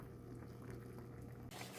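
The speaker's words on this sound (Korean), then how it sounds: "급하게 삼겹살을 넣은 김치찌개가 보글보글 좀 더 끓여줄게요" Kimchi stew with pork belly bubbles steadily in a pot as it boils. The soft, continuous burbling and popping sounds close and fairly quiet, with no one talking.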